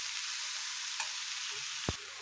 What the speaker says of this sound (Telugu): ఇలా క్యాబేజీ ఫ్రై అవ్వాలన్నమాట